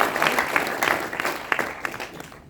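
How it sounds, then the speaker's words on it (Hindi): An audience at a university talk claps in a brief burst of applause, moderately loud and fairly even, fading out after a couple of seconds. "मैं चाहता हूँ जोरदार तालियां पहले सर के लिए"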